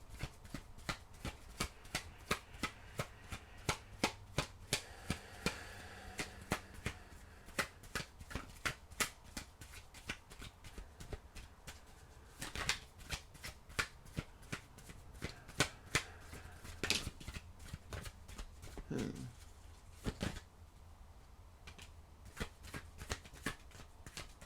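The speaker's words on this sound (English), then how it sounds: "let me get some tarot cards to kind of to get this cleared up" A deck of tarot cards is shuffled over and over, giving a quiet run of crisp riffles and soft slaps that repeat steadily and sit close with no talking.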